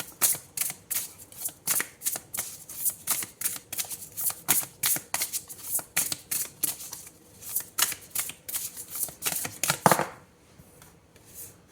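Tarot cards shuffled for a reading, a steady run of crisp riffling snaps and flutters repeating for about ten seconds at close range, then stopping into near silence.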